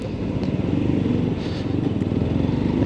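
A Lexmoto Assault motorcycle engine drones steadily at close range while riding, with a low, even rumble and small mechanical clatters.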